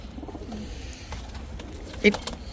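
Red pigeons at a pigeon market coo softly amid a faint background murmur, with one short, louder coo standing out near the end.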